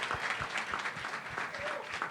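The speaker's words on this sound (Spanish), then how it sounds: "quiero que despidamos a Andrei con un fuerte aplauso" Farewell applause for a guest named Andrei at a Cali tech meetup, a steady wash of clapping from a small audience lasting a couple of seconds, with faint voices underneath.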